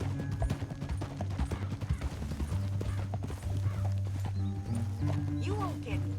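Horse hooves clip-clopping at a steady trot in Red Dead Redemption 2, close and prominent, with game voices talking over the hoofbeats and occasional mechanical clinks.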